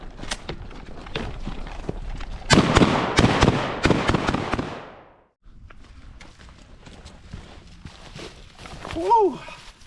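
Sharp shots from a Benelli shotgun with an Argo gas-operated system, fired in a quick run of loud blasts at mid-clip and a few scattered reports around them, followed by a pause and handling noise.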